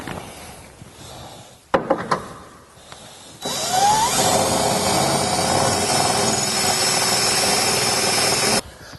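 Power drill boring holes for a skid plate install under a two-door Jeep JK, a steady loud whine running continuously for several seconds after brief clatter and handling noises.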